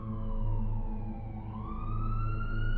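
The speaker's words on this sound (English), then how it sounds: "Once the ambulance arrived" An ambulance siren wails with rising and falling tones, fairly loud and continuous for about three seconds, with a low rumbling drone beneath it.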